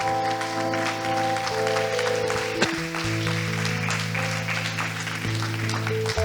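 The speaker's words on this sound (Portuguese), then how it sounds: "Dê uma salva de palmas a Jesus." A church congregation claps together in a sustained round of applause, with music or tones sounding beneath the clapping throughout.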